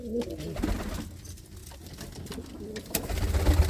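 Old fancy pigeons, fifteen to twenty years old, coo softly in a loft near Anandpur Sahib, low repeated throaty calls close by with faint background voices.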